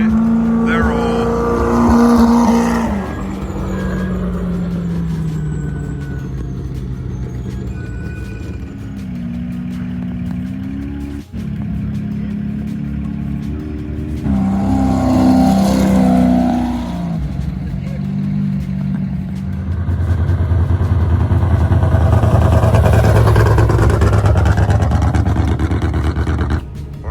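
Baja 1000 trophy trucks race through the desert at race mile 730, engines roaring and rising in pitch as they pass by loudly, with people talking over the noise.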